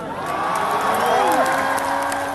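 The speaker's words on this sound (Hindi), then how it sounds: "बात समझ में देर से आई कि ताली बजी" Audience at a live show applauds and cheers, a steady wash of clapping with whoops over a sustained tonal musical or vocal line, loud and continuous throughout.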